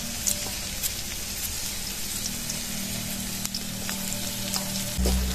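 Sliced shallots and garlic fry in a pan with a steady, close, dense sizzle that holds evenly, with a brief clink near the end.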